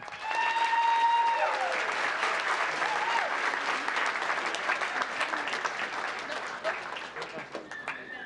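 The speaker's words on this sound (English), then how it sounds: "Let's give Group 2 a big round of applause." Audience at a town council meeting gives a group a round of applause: a dense, steady wash of many hands clapping that gradually thins out toward the end, with voices murmuring underneath.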